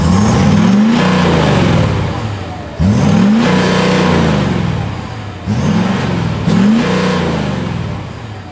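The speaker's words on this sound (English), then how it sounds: "I'm going to give it a quick rev" A lifted Ford F-250 on 37-inch tires with a mostly stock exhaust revs three times close by, each rev rising sharply then dying back to a rumbling idle.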